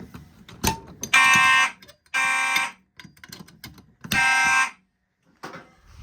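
Fire alarm system set off from a pull station during a system test, sounding in loud repeated electronic blasts of about half a second each with short gaps, close by.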